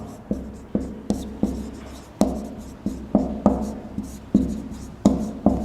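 Chalk scrapes and taps across a classroom blackboard in quick, close strokes, sharp repeated impacts each trailing a brief scratch, with no voice over them.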